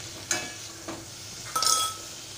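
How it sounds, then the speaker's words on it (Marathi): A spoon stirs chicken bones in a cooking pot, producing a few scraping, clinking strokes against the metal with a faint sizzle underneath, close and quiet, with no talking. "दुसऱ्या टोपामध्ये मी हड्डी घालत आहे। एकजीव करून घेत आहे"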